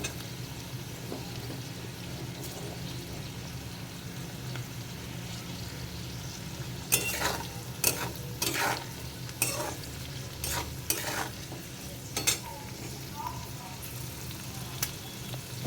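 Chopped capsicum sizzling in a hot pan under a steady frying hiss, with a run of loud scraping stirs from a spatula in the second half, close and distinct.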